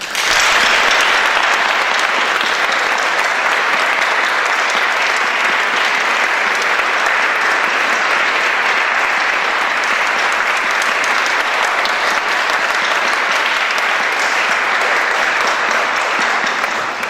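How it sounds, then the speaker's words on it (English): A reception audience applauds in a loud, dense, sustained roar of clapping that holds steady for many seconds with no break. "Please give him a warm applause."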